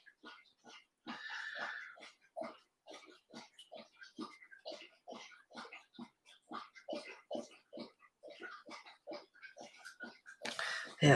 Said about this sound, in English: Gotta growl. Growls at everything.